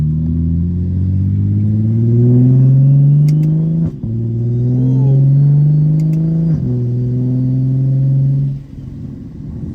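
A loud straight-piped, big-turbo BMW 335is engine revs up through gears close by, rising harmonic roars with crisp shifts and pops between pulls, ending in a lower rumble; one brief exclamation.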